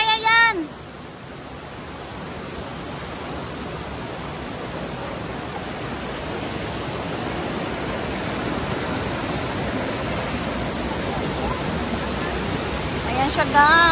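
A waterfall roars as a steady, broad rush of falling water, loud and close on a stream trek, with brief voices at the start and end.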